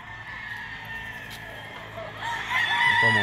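Gamefowl roosters at a gamefarm, including Super Sweater McLean and White Kelso breeds, crow and cluck at moderate distance. A strained crow rises toward the end over a low background murmur.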